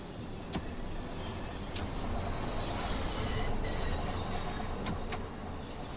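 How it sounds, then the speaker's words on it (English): A London Underground Bakerloo Line train of 1972 Tubestock in Train Sim World 2 passes on the opposite track at a station, a steady rushing whoosh with faint wheel squeal and clicks throughout. "that whoosh that just went by, that was actually another train on the other side of the station, passing by in the opposite direction"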